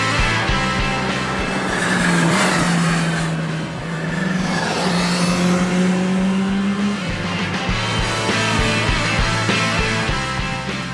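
A Kawasaki Z H2 supercharged super naked motorcycle accelerating hard on road and track in Las Vegas, engine note climbing through gears with rising tones and brief shift breaks, loud and close.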